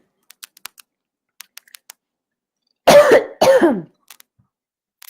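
Two harsh coughs in quick succession break a quiet stretch filled with light, scattered keyboard taps.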